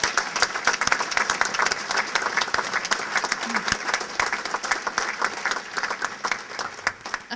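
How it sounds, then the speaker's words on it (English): An audience claps steadily at a gathering with the governor, a lively, fairly close round of applause with distinct individual claps and no voices on top. "And a big applause for these folks."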